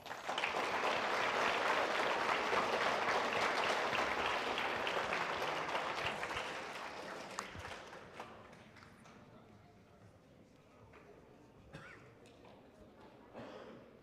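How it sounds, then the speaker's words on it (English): Applause for veterans fills a school veterans ceremony, dense crowd clapping that holds for several seconds, then thins and fades into quieter room sound with voices. "One more round of applause for all of our veterans."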